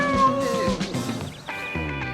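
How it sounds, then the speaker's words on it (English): Cat meowing in a Samsung Neo QLED TV advert, several clear, close meows in quick succession over soft background music, with no talking. "Cats promoting tellies."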